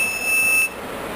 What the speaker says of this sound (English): whenever a fire being detected in front of the camera, easily you get a buzzer indication at the output side.